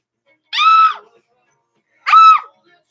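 Two short, loud screams from people sitting in a bathtub, separated by about a second of silence, with no other sound around them.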